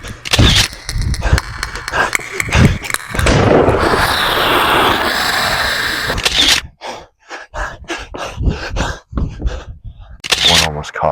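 Video game gunfire aimed at a crab monster's eyes, loud sharp cracks in a quick volley, with a sustained roaring rumble in the middle and more scattered shots toward the end, close and harsh.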